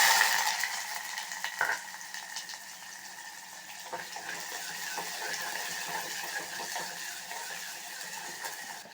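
Onions sizzling in hot oil with popped mustard seeds in a pan while cooking vanjaram dried fish thokku, a steady soft crackle and hiss with a few sharper pops and stirring scrapes near the start.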